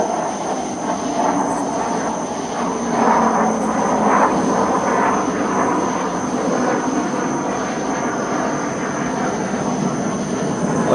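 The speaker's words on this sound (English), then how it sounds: "We've got an air base nearby, so unfortunately we've got airplanes flying overhead." Jet airplanes from a nearby air base pass overhead on a South Carolina night. They make a broad, steady roar that swells gently and stays moderately loud, with a thin high whine over the top.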